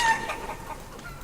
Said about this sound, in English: Okay, so we have another chicken.